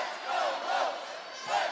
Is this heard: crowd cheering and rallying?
yes